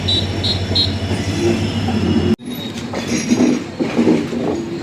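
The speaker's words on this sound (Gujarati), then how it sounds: "અહીંયાથી થઈ રહી છે પસાર ટ્રેન, જોઈ શકો છો મિત્રો" A train rumbles past close by at a railway level crossing, a loud steady roar of wheels on rails with rhythmic clatter and occasional high squeals.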